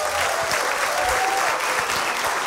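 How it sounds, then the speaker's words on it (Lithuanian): A Lithuanian late-night talk show's studio audience claps steadily for 2–3 seconds, a dense, even wash of applause with no voices over it. "Plojimai!"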